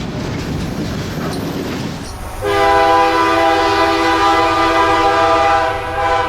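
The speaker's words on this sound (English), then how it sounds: "This is Q213, loaded auto racks from Jacksonville, Florida to Orlando, Florida, basically a shuttle train." Rumbling wheels give way to a loud, sustained multi-tone horn blaring nearby from a CSX freight train of loaded auto rack cars, continuing steadily over the rolling noise of the passing cars.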